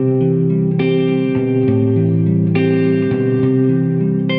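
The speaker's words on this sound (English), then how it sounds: "it's not even close to probably the best recorded reverb sound ever." Electric guitar through a reverb effect: sustained chords ring with long, washy decay, each new strum blooming over the lingering tail of the last, loud and close.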